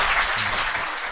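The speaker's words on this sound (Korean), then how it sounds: "박수 부탁드립니다." A studio audience at a talk show applauds in a short burst of dense, continuous clapping.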